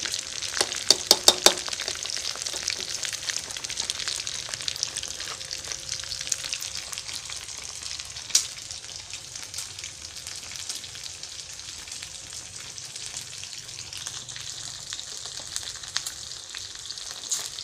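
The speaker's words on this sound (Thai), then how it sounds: "เอามาทอดให้มันกรอบ" Pork intestines deep-frying until crispy, a steady close crackling sizzle throughout with a few sharp pops near the start, no talking.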